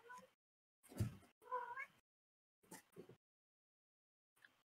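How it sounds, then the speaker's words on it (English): A pet cat meows in several separate whiny cries, close and fairly loud, with short silences between them and a faint final call at the end. "My cat's being noisy."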